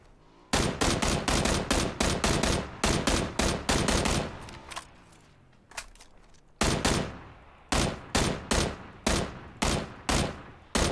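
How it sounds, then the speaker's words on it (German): Gunfire in PUBG (PlayerUnknown's Battlegrounds) rings out in loud, rapid bursts of automatic shots, several volleys broken by short pauses and heard up close. "Ich frage, von wo die Schüsse kamen."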